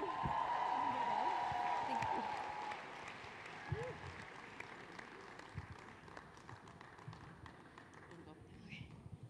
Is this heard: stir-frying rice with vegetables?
no